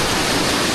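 A strong gush of water pours out of a tree. The rushing, splashing noise is loud, close and steady, with no break across the brief moment.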